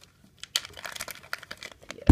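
Plastic packaging around a men's wallet is torn open, giving a quick run of close, crisp crinkles and rips with an uneven rhythm over about two seconds.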